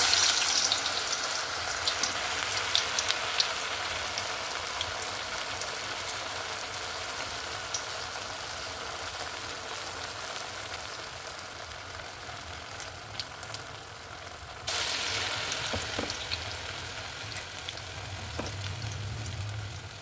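Ash gourd vadas frying in oil, a steady dense crackle and sizzle that runs for the full stretch and swells briefly when more batter drops in partway through, with no voices.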